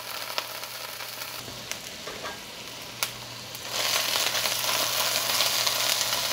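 Wet peppers hitting hot oil, with a few sharp pops and crackles at first, then a loud, dense sizzle and splatter that swells and holds steady to the end.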